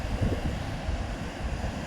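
Ocean waves crash in thick and fast on an Eyre Peninsula shore, a loud continuous rushing wash mixed with wind buffeting the microphone.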